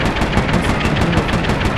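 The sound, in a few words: gunshot in Assassin's Creed 2 video game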